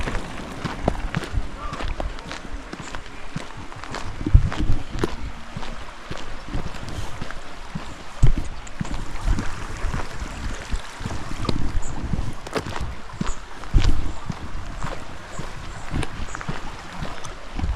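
Rushing water of a mountain torrent on a sunny day, a steady broadband wash close to the microphone with gusts of wind noise buffeting throughout.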